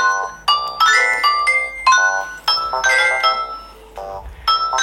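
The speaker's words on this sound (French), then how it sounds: "regardez ma nouvelle sonnerie" A new phone ringtone plays a bright, chiming melodic tune, loud and close, in repeated phrases of ringing tones with brief gaps and no voices.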